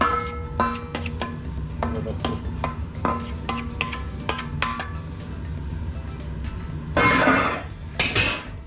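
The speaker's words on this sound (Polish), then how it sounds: "I wszystko mieszamy." Yeast pancake batter with apples stirred in a bowl, a spoon clinking and scraping against the sides in steady repeated knocks, close and fairly loud, with a brief burst of heavier scraping near the end.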